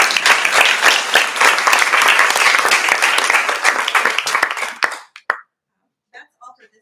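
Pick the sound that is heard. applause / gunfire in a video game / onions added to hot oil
applause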